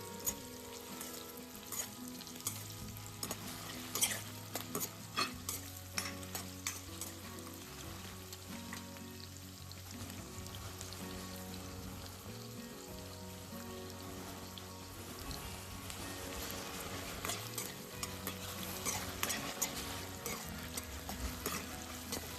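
Two large chopped onions fry in oil until golden brown, a continuous soft sizzle with frequent scraping and stirring taps from a spatula, close-up and steady, with no voices.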